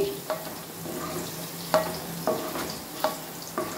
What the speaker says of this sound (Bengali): দেখো, আমার বিনস ভাজাও রেডি